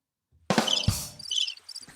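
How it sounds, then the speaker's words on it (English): A crickets chirping sound effect plays, giving bright, rapid high-pitched chirps in short bursts after an abrupt thump-like onset, fairly loud and close. "Oh, I did the crickets."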